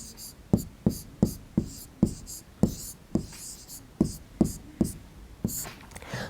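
Chalk strokes on a classroom board as a measurement is written, a run of about a dozen sharp, evenly paced taps and scrapes, close and distinct.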